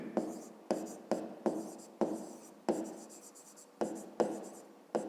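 A pen scratches numbers into a notebook in short, crisp strokes, about ten separate bursts with brief pauses between, close and clear with no talking.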